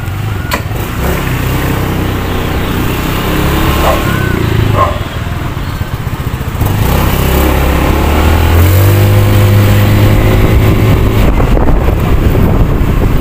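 Rusi Pulse 150 FI motorcycle on a test ride, its engine note climbing as it accelerates under heavy, constant wind buffeting at the microphone.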